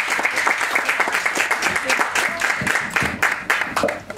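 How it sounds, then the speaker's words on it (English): Applause from guests at an 80th birthday celebration for twin sisters, steady clapping filling the whole stretch at close range and fairly loud, with some crowd noise mixed in. "Give them another big round of applause for me."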